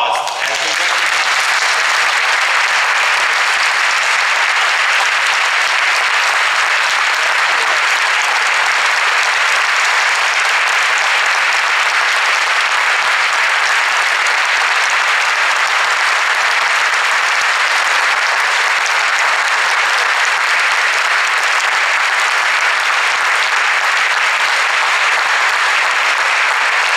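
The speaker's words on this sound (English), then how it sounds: "I would invite applause as we recognize." A church congregation at St. Andrew's-Wesley in Vancouver gives long, loud, sustained applause, dense steady clapping filling the room from start to finish.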